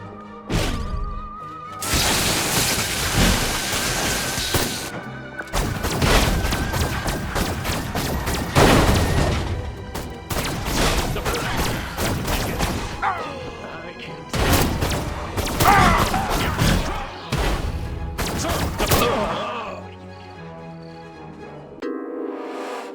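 Gunfire and explosions from an assault on a tower in the game Destroy All Humans, heard as repeated loud bursts of shots with crashes and booms separated by brief gaps, over about twenty seconds.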